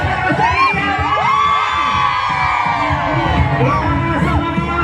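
A festival crowd at a Pasig city anniversary celebration shouts, whoops and cheers loudly and continuously, with children's yells and a dance club's performance noise in the mix.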